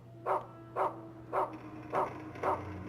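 A dog barking in the video game Rule of Rose, five evenly spaced woofs over a low steady hum, fairly close and clear.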